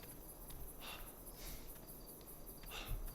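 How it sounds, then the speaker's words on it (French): Night ambience in the survival video game Savage Lands: crickets and grasshoppers trill continuously, a steady high, shimmering chirr with a few louder pulses, alone with no talk. "c'est des grillons et des sauterelles."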